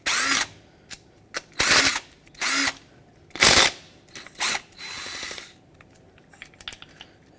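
A power drill backs out the three 8mm screws holding the motor to the rear window regulator of a 2009-2014 Ford F-150, sounding as a series of short, loud whirring bursts separated by brief pauses.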